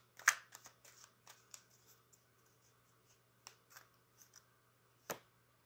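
Oracle cards being shuffled and pulled, with soft close papery flicks and snaps in scattered bursts, quiet and without talking.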